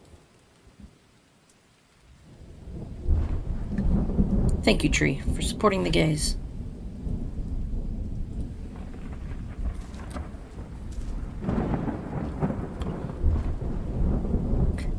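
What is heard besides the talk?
thunderstorm and rain in a video game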